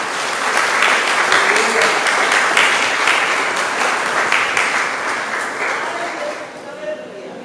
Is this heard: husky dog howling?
no